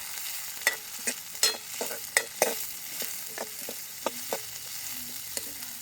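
Chopped onions sauté in a pan for vegetable dosa, a steady sizzle broken by sharp, irregular clinks and scrapes of a spoon stirring against the metal, close and fairly quiet with no voices.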